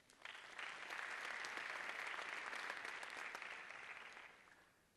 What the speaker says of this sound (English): Please applaud Mary Grace O'Hara.